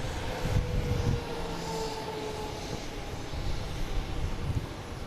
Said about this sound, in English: We have a JetBlue coming in from Dublin.